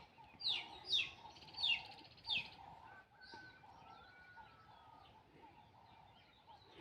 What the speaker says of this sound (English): You can hear the birds everywhere.